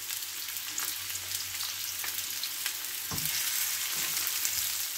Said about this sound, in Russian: На хорошо разогретую сковороду наливаем растительное масло. И обжариваем лук до прозрачности,